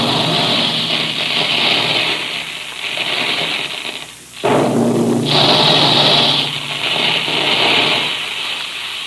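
Loud mechanical roar from the special guns that shoot puffed wheat and puffed rice at the Quaker plant, a steady engine-like din broken by a brief dip and a sharp burst before the clatter resumes.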